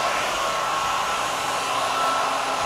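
Hair dryer drying clothes outdoors at a campsite, a loud, constant close-up roar of blowing air that runs steadily throughout without any talk.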